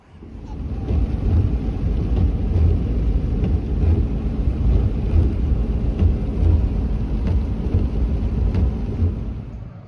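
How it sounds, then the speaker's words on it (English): A truck pulls away outdoors with a continuous, loud, low engine rumble that builds quickly and holds steady for the whole stretch, with no talk over it. "truck's pulling away"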